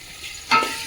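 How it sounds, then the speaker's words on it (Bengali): Onions sizzle in a pan over a high flame while chicken biryani is being cooked, a soft frying hiss that swells suddenly halfway through as if stirred or newly added, then stays steady and close. "দুটোকে আমি একটু হাই ফ্লেমে ভেজে নেব"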